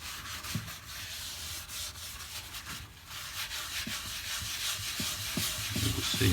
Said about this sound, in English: You will see as I'm scrubbing,